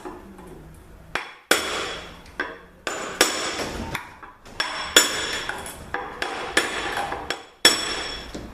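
Repeated metal hammer blows strike a CD4E transmission pump during a teardown, about a dozen sharp ringing impacts at irregular intervals, loud and close with clanking resonance between hits.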